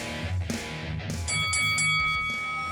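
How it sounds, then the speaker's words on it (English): A boxing final bell rings out in several bright metallic strikes, the clangs ringing on and overlapping over a dense music bed. "that's the final bell for this episode of Round by Round"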